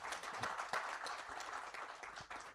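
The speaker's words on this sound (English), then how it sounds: "I would like all of you to thank our panelists with a loud applause." A conference audience applauds panelists at the close of a panel session, with dense, steady clapping that fills the room at a moderate distance and holds evenly throughout.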